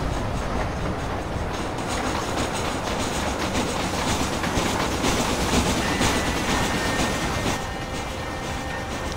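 Steady rumble and clickety-clack of a moving train in the Red Dead Redemption video game, loud and continuous throughout, with faint squealing tones near the end.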